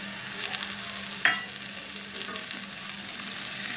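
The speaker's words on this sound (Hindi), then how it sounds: "और इसे अच्छे से मिक्स कर लेंगे।" Green chilli, coriander and onion are stirred into a sizzling samosa filling in a pan: a steady bright frying hiss, one sharp utensil knock early on, then faint scraping as the mix is turned, with no talking.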